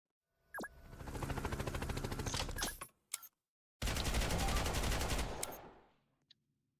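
A placed automatic gun firing in the Roblox combat game Cold Front: two long, rapid bursts of rattling shots, close and loud, separated by a short gap with a couple of brief sounds between them, then silence.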